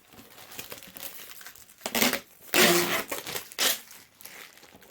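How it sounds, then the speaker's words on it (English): A plastic bottle is cut and handled for shapes, giving close crinkling and crunching plastic sounds in uneven bursts, with the loudest crackles in the middle of the clip. "I'm going to cut out the shapes."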